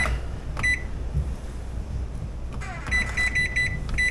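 An oven timer beeps as it is set for a prime rib roast going into a 450-degree oven: a short beep near the start, then a quick run of repeated electronic beeps toward the end, over steady kitchen hum.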